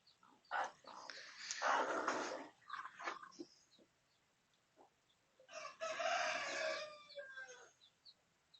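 Broody hens with chicks cluck and call in bursts, a couple of loud drawn-out squawks with quieter clucks between, fairly close with quiet gaps.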